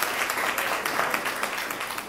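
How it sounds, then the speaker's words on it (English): Short burst of audience applause at an African history course introduction, a dense, fairly quiet wash of clapping hands from a crowd. "So y'all give him a round of applause."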